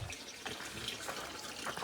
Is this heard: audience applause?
no